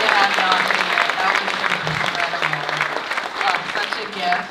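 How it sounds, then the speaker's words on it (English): A live event audience at a poetry and music reading gives a warm round of applause, with dense clapping and scattered voices and cheers mixed through, moderately loud and sustained. "Can we get another round of applause for LaTasha and Carolina?"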